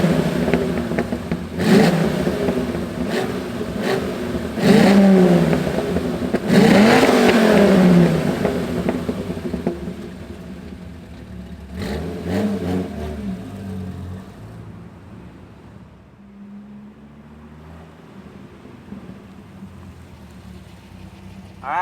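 A 2006 Dodge Viper SRT10 coupe V10 fires up and revs hard, with loud, rising throttle blips in bursts, then settles into a lower, quieter idle.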